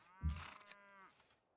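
A single deep, drawn-out moan from an elephant unit in Civilization V, loud at onset then sliding and fading over about a second, heard alone.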